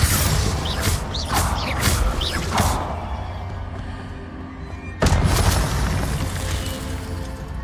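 Confringo blasting spell in Hogwarts Legacy, heard as a sudden loud burst partway through, after earlier crackling, whooshing magic effects over a dense game soundscape.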